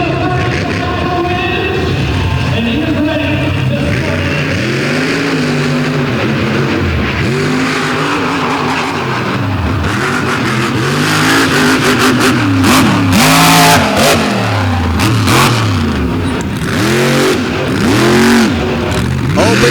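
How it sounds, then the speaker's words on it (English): A monster truck with a big Vance engine launches hard down a drag strip at an outlaw monster truck drags event, its engine roaring loud and close with repeated revving surges throughout. "that big Vance engine should get him down the track"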